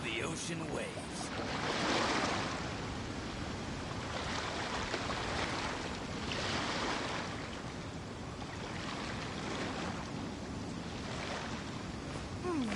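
Ocean waves rolling in the Genshin Impact video game, a continuous roar of surf with slow swells building and fading every few seconds.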